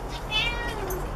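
A pet cat outdoors gives a single close, loud meow lasting about a second, rising and falling in pitch.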